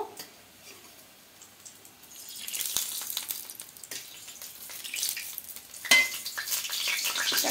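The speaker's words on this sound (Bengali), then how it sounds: "গরম তেলটা দিয়ে খুব ভালো করে মিশিয়ে নেব।" A spoon stirring pumpkin fritter batter after hot oil goes in, a soft wet sticky churning with a sizzling hiss that builds toward the end, close and fairly quiet with no speech.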